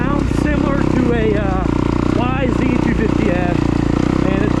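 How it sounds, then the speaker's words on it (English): Loud, steady two-stroke-style exhaust drone from a 2021 Kawasaki KX250X dirt bike on a home motocross track, rising and falling in pitch as the throttle revs and shifts, with a voice talking over it. "it's got a very loud and annoying exhaust bit."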